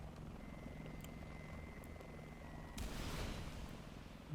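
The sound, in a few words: helicopter in the video game War Thunder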